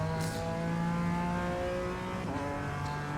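Racing engine of a BMW M4 G82 GT4 in iRacing at Circuit Zolder, roaring continuously at high revs with a steady, loud pull and a slight pitch shift midway as the car powers out of a corner.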